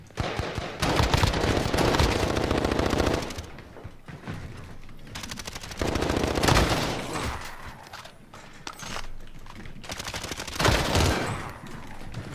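Gunfire in the Warzone video game during a zombie outbreak event: long, dense bursts of automatic fire, loud and sustained, broken by short pauses.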